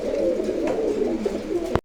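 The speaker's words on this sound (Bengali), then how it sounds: "এখানে রয়েছে একজোড়া খুব সুন্দর লুটন কবুতর।" A pair of Lotan pigeons coo in soft, low throaty rolls, close by and continuous, with a brief knock at the very end and no talking.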